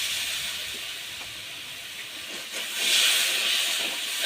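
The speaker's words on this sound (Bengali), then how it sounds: "মশলাটা বেশ ভালো করে কষিয়ে নেব।" Spice paste of turmeric, chilli powder, salt and a splash of water fries in a pan for crab curry, giving a steady loud hiss that swells near the end, with no talk.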